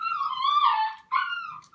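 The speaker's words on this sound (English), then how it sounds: "those are some jealous puppies" Puppies whimpering nearby in two drawn-out, high, wavering whines separated by a brief pause, with no talk over them.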